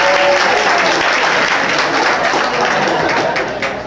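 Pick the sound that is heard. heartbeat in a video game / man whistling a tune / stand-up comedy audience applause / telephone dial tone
stand-up comedy audience applause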